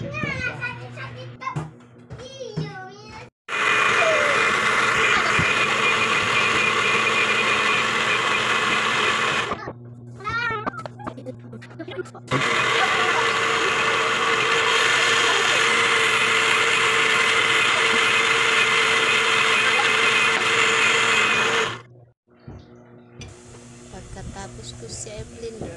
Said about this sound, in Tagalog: Tapos, i-blend ko siya.